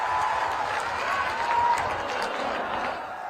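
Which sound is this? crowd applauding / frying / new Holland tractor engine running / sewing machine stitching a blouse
crowd applauding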